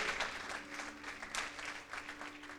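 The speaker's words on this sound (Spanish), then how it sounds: "Denle un aplauso a Él." Congregation applauding at a church service, a moderate wash of clapping heard from some distance with a low steady hum underneath, no voices over it.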